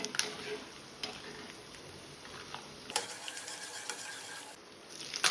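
Mustard seeds and gram dal frying in oil with roasted peanuts in a kadai give a faint, steady sizzle broken by sharp ticking pops and crackles.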